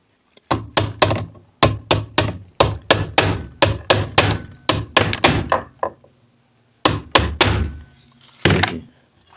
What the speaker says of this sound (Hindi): हथौड़ी से यहाँ पे इस पर मारेंगे तब ये उधर जाएगा